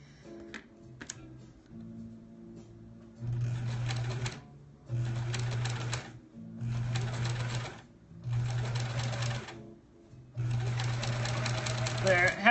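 A sewing machine stitches a quilt block seam in short bursts, several runs of steady mechanical whirring separated by brief pauses, with a person talking quietly between them.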